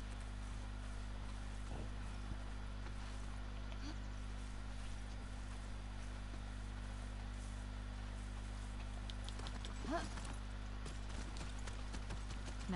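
Horse hooves clip-clop in The Last of Us Part II, faint and intermittent over a steady low hum, with a few sharper footfalls standing out near the end.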